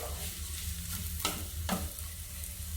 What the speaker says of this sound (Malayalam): നന്നായിട്ടൊന്ന് മിക്സ് ചെയ്യുക.